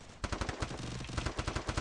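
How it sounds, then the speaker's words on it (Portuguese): Rapid bursts of automatic gunfire, loud and close, firing in a fast continuous rattle. "Um tiro, Rasco, pula e mata."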